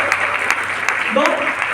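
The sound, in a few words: audience applause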